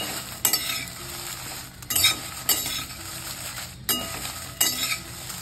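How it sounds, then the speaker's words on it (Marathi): Chillies stir-frying in a pan for a garlic-coconut chutney make a soft continuous sizzle, broken by several sharp metallic scrapes and clinks of the spatula at irregular intervals, close by and without speech. "अशी चांगली परतून घ्यायची मिरची"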